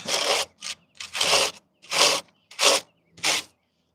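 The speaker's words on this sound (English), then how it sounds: "it's a welding brush from Harbor Freight." A Harbor Freight welding brush scrubs a surface in six rasping strokes, each a short burst of broadband scraping with brief pauses between, close and fairly loud with no voices.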